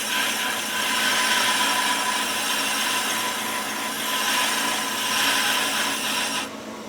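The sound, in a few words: brake lathe cutter taking a light scratch cut on brake disc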